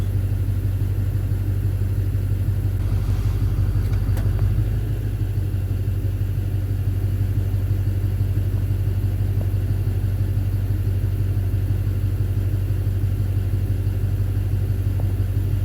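A Duramax LMM diesel engine idles steadily with a deep, continuous low rumble, loud and close, with no talk over it; any knock is buried in the drone and not distinctly separate.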